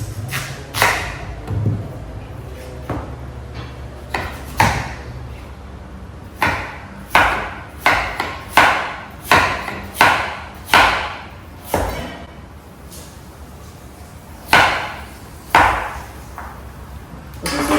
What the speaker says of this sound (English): I'll show it to you how you actually slice the yam